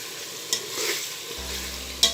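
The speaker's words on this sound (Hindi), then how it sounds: "मसाले को आप अच्छी तरह से भूनेंगे।" Masala for beef bhuna gosht fries and is stirred in a pan, a soft continuous sizzle with a couple of quick scraping stirs, close and fairly quiet.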